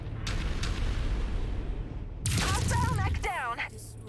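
Ammunition cooking off inside a mech in Mechwarrior 5, a loud, sudden crackling blast with rapid popping bursts over ongoing battle rumble, while someone talks.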